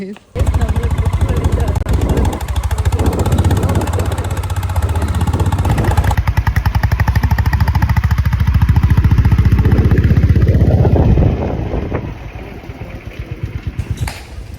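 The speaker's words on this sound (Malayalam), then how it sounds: "നമ്മൾ ബൈക്കിൽ ട്രിപ്പിൾ അടിച്ച് പോകാൻ പോവാണ്" A motorcycle carrying three riders rumbles along a street in Bangalore, a loud steady engine drone that eases off near the end, with voices talking over it.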